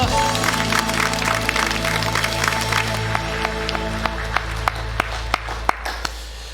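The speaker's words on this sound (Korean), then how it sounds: "하나님께 영광의 박수 올려드립시다" A church congregation claps in praise during a Korean anniversary Sunday worship service, the applause mixed with sustained organ or keyboard chords and fading into a few sparse, sharp claps near the end.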